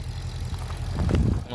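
A Ford Mustang Shelby GT350 with a flat-plane crank V8 idles in a low, steady, fairly quiet rumble while someone talks over it close by.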